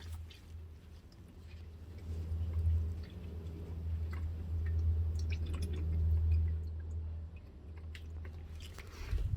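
Engine oil draining from a Toyota Supra into a pan during an oil change, a steady low gurgling pour with wet trickling and faint clinks, continuous and close.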